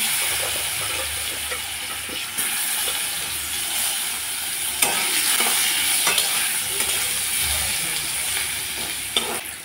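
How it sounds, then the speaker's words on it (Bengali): Potatoes fry in hot oil with a black cumin tempering for a hilsa fish curry: a loud, continuous hissing sizzle with occasional stirring scrapes, close up and without talk. "আলুগুলোকে 2 মিনিটের মতো ভেজে নিলাম।"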